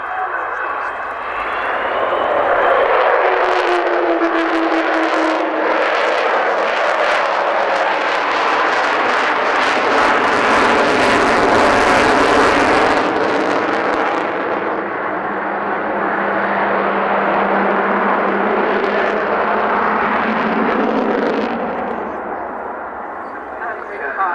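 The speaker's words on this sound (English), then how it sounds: "So watch now as Bill Ramsey takes the aircraft into a spiral climb" Aircraft at an air show roaring loudly through a spiral climb, a sustained, powerful engine rumble that swells and holds for over twenty seconds before easing slightly, heard from a distance across the show ground.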